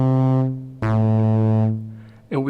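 An Arturia MicroFreak synthesizer preset with a cycling envelope and noise sounds two sustained buzzy tones, the first fading out, a second sharp plucky attack sustaining then decaying, and a third note starting at the end.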